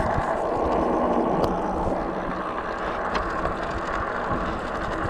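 Twin motors of a LAFLY T1000 pro dual-motor fatbike engaging while riding, a continuous whirring, ratcheting mechanical drone with faint clicks and wind rumble, steady and close throughout.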